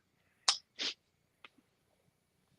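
A single close, sharp sneeze in a casual couch conversation, a quick intake followed by a burst, then a few faint small sounds afterward and near quiet.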